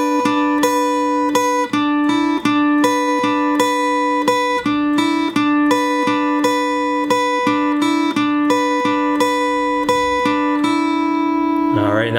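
Acoustic guitar picking the intro lick of a song at a slow tempo, a steady string of clear plucked notes and bright strummed accents, close and alone with no voice.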